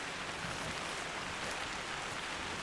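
Rain in the hunting game The Hunter: Call of the Wild at Layton Lake, a steady, soft hiss of rainfall that stays even throughout, with no speech.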